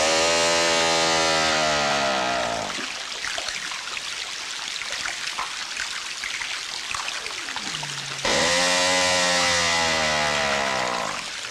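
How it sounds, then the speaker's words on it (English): A crabeater seal's call recorded underwater, a loud harsh buzzing drone like a chainsaw with pitch sweeping downward, sounding in two long bursts separated by a noisy crackling stretch. "We've also got a clip of a crab eater seal."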